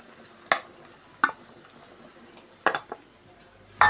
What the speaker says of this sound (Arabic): نعمل بقى احلى تقليه للمحشي